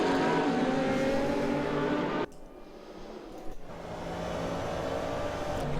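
GT3 race cars, a Corvette, Mercedes, Porsche and Audi, battle in a sim race at Twin Ring Motegi, with loud close engine roar that cuts sharply to a quieter interior drone before building again.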